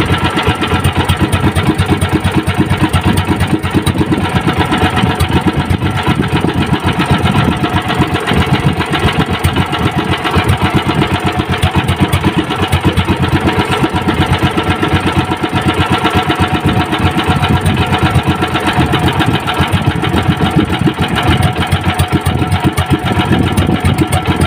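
An engine of a serisan, a small sawmill machine housed under plywood, runs steadily and loudly up close, a continuous mechanical drone with rapid knocking pulses throughout and no talking.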